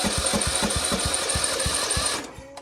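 A 1953 Willys CJ3b engine cranks with a steady rapid chugging rhythm for about two seconds without catching, then cuts off, leaving a brief quiet tail with a faint click.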